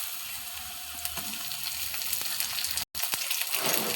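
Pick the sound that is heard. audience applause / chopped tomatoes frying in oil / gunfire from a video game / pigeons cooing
chopped tomatoes frying in oil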